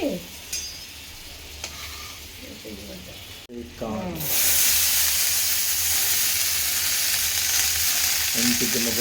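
Sweet corn cooks in butter in a pan: a few soft scraping stirs and a brief voice at first, then a sudden loud, bright sizzle that carries on steadily, with a short spoken bit near the end.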